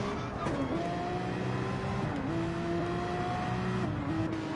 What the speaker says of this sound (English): his teammate is actually heading out first, so we've got Mr. AU Brabo in the Porsche